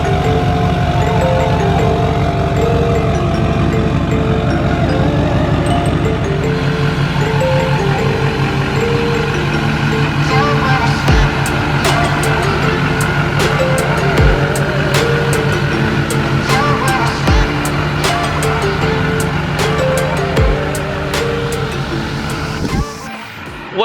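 A straight-piped Lamborghini Huracan with a Soul Performance exhaust runs loud and close, its engine droning steadily with sharp cracks and pops breaking through in the second half.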